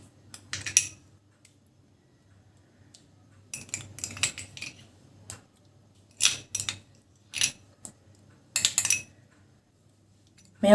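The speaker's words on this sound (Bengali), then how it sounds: "মেয়োনিজটা ভালো করে চারিদিকে ছড়িয়ে দিতে হবে" Metal utensil scraping and clinking against a plate while mayonnaise is spread over a spinach and mushroom sandwich filling, in short irregular bursts separated by quiet pauses.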